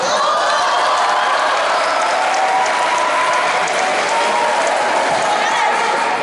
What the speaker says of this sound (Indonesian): yang baru dengar itu tepuk tangan